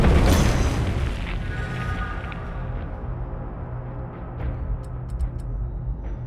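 A heavy boom from the Herald of Decay detonation in Stirring Abyss hits loud at once and then rumbles and fades over several seconds, with faint game clicks afterward.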